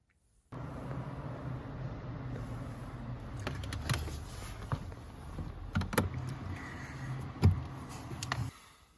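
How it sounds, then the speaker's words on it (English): Locking mechanism of a Volvo car door: a low mechanical hum running throughout, broken by several sharp clicks and clunks of the locks engaging, close up, with no talk. "So all you hear right now is the locking mechanism."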